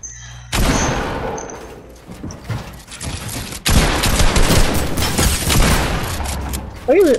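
AK rifle fire in Fortnite crackles in loud bursts, a sustained volley in the middle and a heavier run of rapid shots near the end, with talk under the gunfire.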